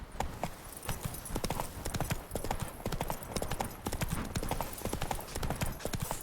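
Horse hooves clip-clop at a steady trotting rhythm while a rider travels in The Witcher 3, the rapid beats close and continuous over faint ambient background.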